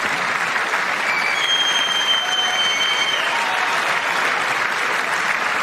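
Sustained, dense applause fills the chamber during the State of the Union address, a steady roar of many hands with a few faint whistle-like tones drifting above it and no break.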